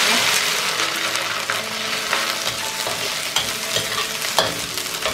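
Pickled greens with ginger and garlic being stir-fried in a pan, a loud continuous sizzle with repeated scraping strokes of the utensil, no talking.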